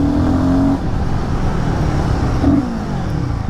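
A Royal Enfield Guerrilla 450 motorcycle runs with a steady, loud exhaust note and a brief rise in revs near the end.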